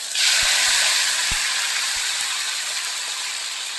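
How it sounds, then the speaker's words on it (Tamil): Two hand-crushed medium tomatoes hit hot oil with mustard seeds and curry leaves for egg masala, giving off a loud, steady sizzling hiss with a few soft pops and thuds from the pan, no talking. "தக்காளி பச்சை வாடை போகிற வரைக்கும் நல்லா வதக்கிடுங்க"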